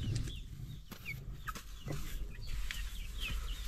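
Chickens, including brown ones, in a cage give faint, scattered clucks over a steady low background hum, with no one speaking.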